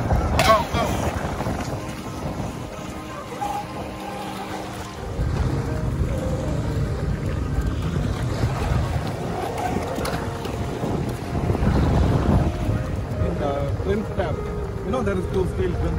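Traxxas M41 catamaran on 6S and Spartan RC boat on 4S running on water, a continuous near engine-and-water rush with wind buffeting, swelling louder midway and toward the end, with people talking over it.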